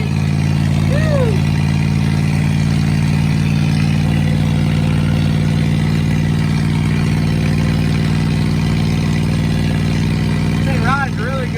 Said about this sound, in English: Hear them roaring out there, hear the boggers humming.